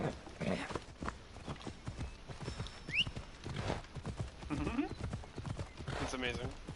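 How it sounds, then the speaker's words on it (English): A horse's hooves clip-clop in the Assassin's Creed video game, with irregular moderate steps and a brief whinny under steady talking. "I guess it's time to show you the horse."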